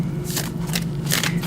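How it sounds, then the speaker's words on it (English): A tarot deck being shuffled by hand: soft papery riffles and slides in several quick bursts, close and steady, over a low constant hum, with no talk. "Give her a little bit of a shuffle."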